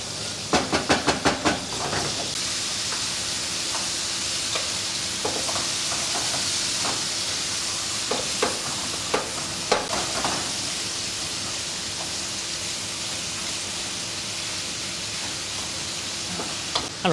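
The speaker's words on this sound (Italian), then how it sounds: "primo passaggio, rosolare la carne" Meat and garlic browning in oil in a pan, a steady close sizzle and hiss throughout, broken by occasional sharp clicks and scrapes of stirring.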